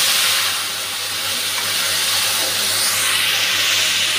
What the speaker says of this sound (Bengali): মশলাটা খুব ভালোভাবে ভেজে নিয়েছি